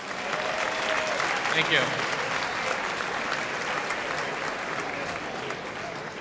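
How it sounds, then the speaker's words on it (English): An audience applauds student panelists at a college academic-year kickoff event, with a steady round of clapping from a crowd in a hall and a brief spoken thanks over it. "let's give a round of applause to our student panelists."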